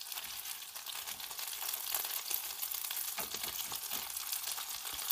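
Chicken wings pan-frying in melted, darkening caramelized sugar, a steady bright sizzle close by with occasional soft stirring or turning sounds.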